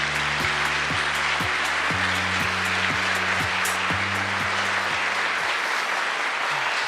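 An audience at a Korean government policy presentation gives a big round of applause as a committee chair is introduced, dense steady clapping over a rhythmic synthesized music bed with pulsing low notes.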